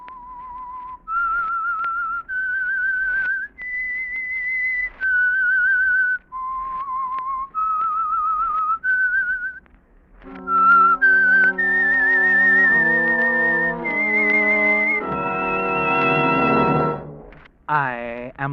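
A lone whistler carries a slow, wavering melody of held notes, the theme of the radio program The Whistler, then sustained orchestral chords swell in and continue the tune loudly.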